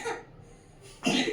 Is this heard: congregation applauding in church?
no